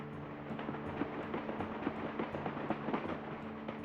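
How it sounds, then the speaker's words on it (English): A train pulls out of a station, a steady low rumble and rattle of rail cars with faint repeated clacks, fairly quiet and distant, with no talking. "the tears came though after the train pulled out"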